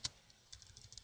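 Typing on a computer keyboard while writing C++ code, with one sharp keystroke followed by a pause, then a quick irregular run of soft, close clicks. The sound is faint, and no one talks.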